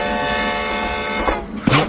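A steam train whistle, switched to a softer tone on a toy or model steam train, sounds as a sustained harmonic tone throughout, with a louder burst near the end.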